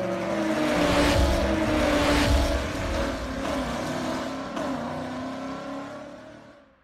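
A 2023 Chevrolet Corvette C8 Z06 revs hard on a dyno, its engine note holding a loud, sustained roar with shifting harmonic tones before easing off and fading out at the end, with no voices.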